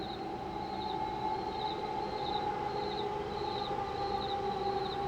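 A distant, droning siren wails in a steady, wavering tone with a faint repeating upper warble, heard alone against a low rumbling background.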